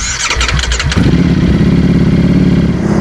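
A Ducati Panigale V4 motorcycle fires up: a brief cranking whir, then the engine catches around the one-second mark and settles into a loud, steady idle, recorded up close with no talking.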